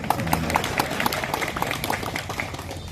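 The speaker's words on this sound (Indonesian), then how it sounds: "Kenapa tepuk tangannya kurang?" An audience at a government inauguration ceremony in Mamasa applauds in a dense, steady patter of many hands, moderately loud and tapering slightly toward the end.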